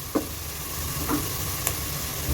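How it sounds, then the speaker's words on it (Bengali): Onions frying gently in a pan for Old Dhaka-style beef tehari, a soft steady sizzle with a few faint stirring scrapes, no voices. "পেঁয়াজটা সামান্য ভেজে নিচ্ছি"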